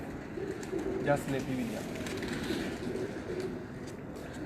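Domestic pigeons coo steadily from a rooftop loft, low and throaty, mixed with a man's speech and other background noise throughout.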